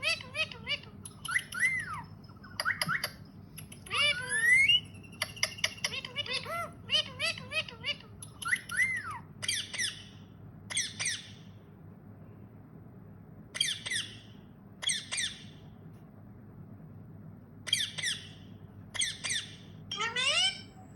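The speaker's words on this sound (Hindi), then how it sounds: "अब आप इसमें तोते की अलग अलग बोलियां सुनिए" Parrots make a run of varied calls: sharp squawks, squeaks and chirps come in bursts and then in spaced single calls, close and loud against a quiet background hum, with no talk.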